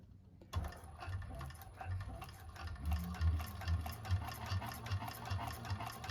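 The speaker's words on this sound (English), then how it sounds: "So we'll sew this and then set this aside and move on to the next pieces." A Singer 1341 cylinder arm sewing machine stitches bag pieces at moderate speed, a steady rapid mechanical patter with a low motor hum starting after a brief quiet moment, close and without speech.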